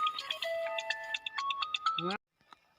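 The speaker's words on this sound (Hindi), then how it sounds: "चलो लगता है फोन भी आ गया साहब का" A phone rings with an incoming call, a bright electronic melody of repeating tones playing loudly for about two seconds before cutting off abruptly.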